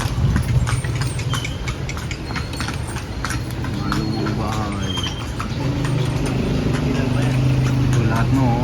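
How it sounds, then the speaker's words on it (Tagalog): Horse hooves clip-clop steadily while the animal walks outdoors on a family vacation, a continuous rhythmic clatter under people talking and background noise. "may kabayo daw, ipapakita yung kabayo habang naglalakad"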